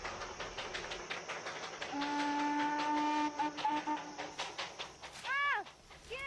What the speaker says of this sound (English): the sounds of the train they brought echo up from the valleys